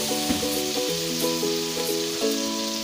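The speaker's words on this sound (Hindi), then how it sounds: "चिकन को फ्राई करना है कि इसका कलर चेंज हो जाए" Chicken frying in a pan for Pakistani-style spicy chicken macaroni gives a steady, bright sizzle throughout, with soft stirring knocks and background music tones; no talking.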